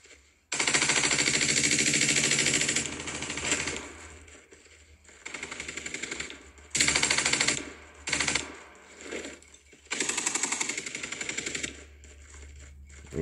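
Hip-fire bursts from a gun in the Rogue Agents shooter game, several loud sustained automatic volleys broken by short pauses and quick shorter bursts.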